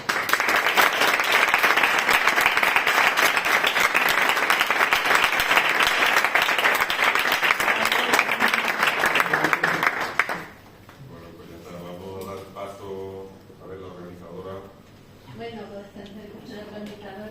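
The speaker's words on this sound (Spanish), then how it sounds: "Así que un fuerte aplauso." Audience applause at a book presentation in a library, loud and sustained for about ten seconds before stopping abruptly, after which a speaker talks alone.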